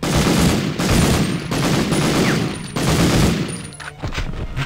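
Gunfire in the video game Medal of Honor: loud, close bursts of rapid shots in several volleys separated by brief gaps, with no talking.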